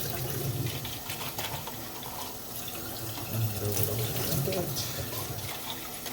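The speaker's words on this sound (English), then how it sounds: "I'm just filling it with clean warm water. Filling it into the valve." Clean warm water running from a tap to fill a trumpet's valve, a continuous rushing flow with a brief swell near the middle, under intermittent speech.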